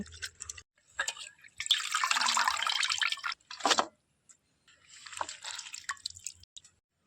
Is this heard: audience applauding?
no